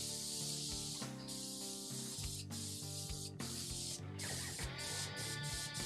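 An airbrush sprays paint with a steady, close hiss that runs through the whole stretch, over a bed of background music with only brief gaps.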